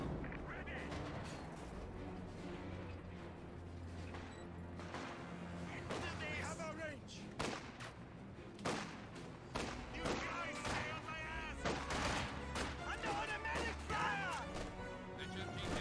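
Machine-gun bursts and tank cannon shots from a Company of Heroes 2 match, including a captured MG-42, with repeated sharp impacts and crashes over a steady battle din while a commentator talks throughout.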